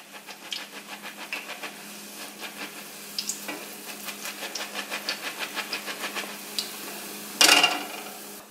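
Buñuelo de viento batter sizzles steadily in hot frying oil, with a soft bubbling hiss and faint regular crackles throughout, alone with no talk, and a brief louder burst of spatter near the end.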